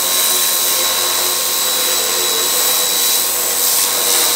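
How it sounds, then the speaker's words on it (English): A cheap pressure washer blasting mold and grime off a car neglected for 25 years, a loud steady hiss and motor drone holding without pause, close up. "even with this cheapo pressure washer, it's cutting through like butter now"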